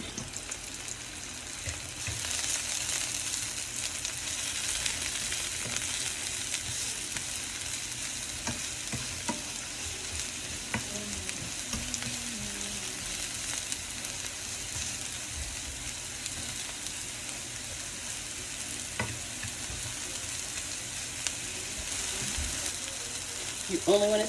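Wild mushroom risotto sizzling steadily in a pan, a continuous fry hiss with occasional scrapes and stirring clicks, close and even throughout.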